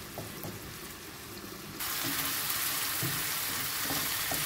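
Onions and garlic sizzle in a hot pan, a steady close frying hiss that swells louder partway through as more food meets the oil, with no talking.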